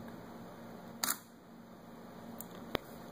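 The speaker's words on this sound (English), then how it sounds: "you just press this button here for the shutter release." Shutter of a Sony Alpha a6000 camera fired by an infrared remote: one sharp, quiet mechanical click near the end, after a fainter click earlier, over a steady low hum.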